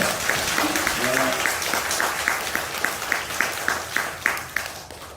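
A church audience applauds together, a dense steady clapping that starts at once and holds for several seconds, with a few voices and a short sung or spoken phrase mixed in.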